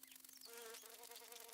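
A bee buzzing in the video game Luma Island gives off a thin, high-pitched squeaky whine, fluttering and wavering over a quiet steady hum, faint and alone without any talking.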